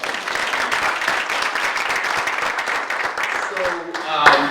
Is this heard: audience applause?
yes